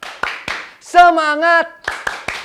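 Children's worship program: a few sharp hand claps in rhythm, then a sung word, then more brisk claps, close and loud.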